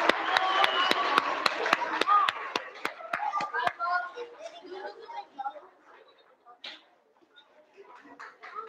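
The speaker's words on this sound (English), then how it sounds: "give them another round of applause" Applause for third grade award winners at a school ceremony, a run of sharp, evenly spaced claps at first that thins out into scattered, quieter sounds and murmuring.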